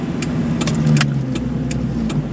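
A manual-transmission car engine steadily humming and revving as gears are shifted, a low continuous drone with scattered clicks and small mechanical knocks, close and fairly loud with no voices.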